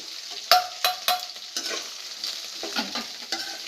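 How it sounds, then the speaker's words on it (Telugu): Grated coconut frying and being stirred in hot oil in a pan, with steady sizzling under a few sharp scraping stir strokes near the start, then a continuous softer fry with intermittent stirring. "ఈ కొబ్బరి వేసి కొంచెంసేపు ఫ్రై అవ్వాలండి ఆయిల్లో."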